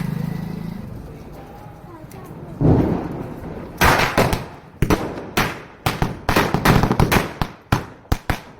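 Diwali firecrackers burst in a rapid string of sharp, loud bangs, starting after a hissing fuse-like rush and then popping close by in an irregular volley of cracks.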